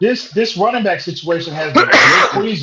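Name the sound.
sneeze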